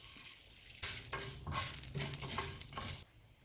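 Mustard seeds and urad dal frying in sesame oil in a kadai, a quiet bright sizzle with crackling pops and stirring scrapes that swells after a brief lull and then fades.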